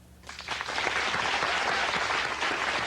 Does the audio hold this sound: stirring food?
no